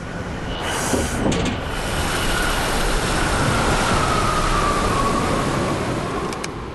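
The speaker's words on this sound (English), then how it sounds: "On the train test range," A train on a rail test range makes a loud, continuous roar of wheels and track noise with a faint steady squeal-like tone throughout, and no voices.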